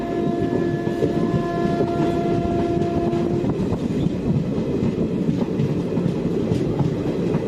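An Indian Railways train runs along the tracks between Mandla and Pindrai Road, a loud continuous rumble and clatter heard from on board, with a horn sounding early on before fading into the steady track noise.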